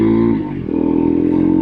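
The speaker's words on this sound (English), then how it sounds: "This is a sweet bike. This is a sweet motorcycle" Husqvarna Svartpilen 401 motorcycle engine, a close, loud throbbing single-cylinder note that dips briefly as the revs change, then settles into a steady pulsing run.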